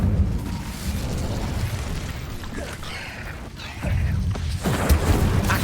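Incendio fire spell cast inside a cave in Hogwarts Legacy, a loud, continuous roaring blast with a low rumble that swells again near the end.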